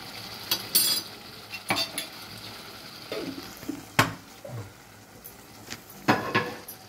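Ghee goes into a pan of bhog, a vegetarian dal dish for Lakshmi puja, followed by scattered clinks of a metal spoon against the pan and light stirring over a faint background sizzle; no one speaks.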